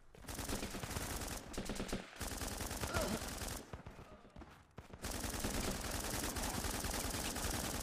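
Shotgun blasts mixed with other gunfire in the video game Running with Rifles: dense, rapid bursts of shots with a few short lulls, loud and continuous.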